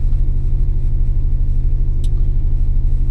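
A truck setting off: a steady, loud, close diesel engine rumble with a constant low drone throughout and no speech.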